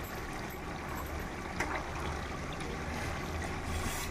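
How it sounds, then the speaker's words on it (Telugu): Hot water is poured into a cooking pot of mutton frying in oil for biryani, giving a soft, steady trickling and bubbling that runs quietly throughout without talk. "వేడి వాటర్ పోద్దాం"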